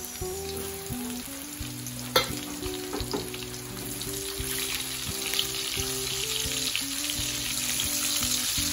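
Sliced onion sizzles and fries in a pan for a bamboo shoot dish with coconut milk and saluyot, a steady close crackle with occasional stirring clinks and a low hum underneath.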